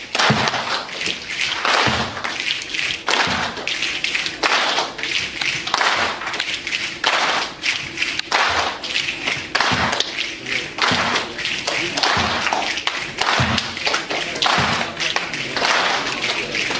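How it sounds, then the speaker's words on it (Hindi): At a live event, an audience keeps up a two-snaps-one-clap rhythm, loud clustered hits repeating at a steady pace, roughly once a second, throughout with no talking over them. "So everybody, both hands here. Okay, 2 snap and 1 clap."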